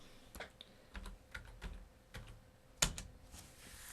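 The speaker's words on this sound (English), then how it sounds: "by typing in the rung number" Light, irregular tapping on a computer keyboard, quiet and close, with one sharper keystroke standing out.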